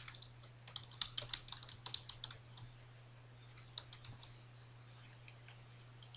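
Fingers type code on a computer keyboard in a quick burst of close, light key clicks that thins to a few scattered taps over a low steady hum, with no voices.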